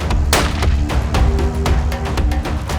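A rifle shot fired at a springbok from shooting sticks during a hunt near Bela-Bela, a loud sharp crack followed by rolling echo and rumble, with no talk.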